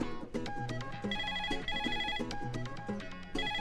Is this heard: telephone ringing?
yes